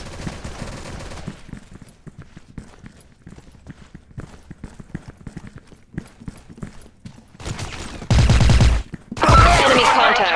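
Rapid bursts of gunfire in a military shooter video game, a run of sharp repeated shots followed by louder sustained blasts near the end.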